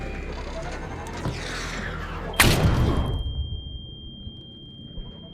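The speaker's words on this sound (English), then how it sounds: "that rocket nearly took my head off" A rocket bursts in the video game Arc Raiders, one sudden loud crack and boom followed by a rolling rumble that fades into a thin steady ringing tone.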